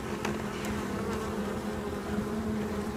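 Honey bees humming steadily inside a hive ten days after a package install, a calm, continuous drone with a low tonal buzz and a few brief louder passes of individual bees close by.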